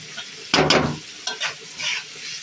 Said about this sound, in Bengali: এখন এই চিংড়ি মাছটা একটু ভেজে নিব।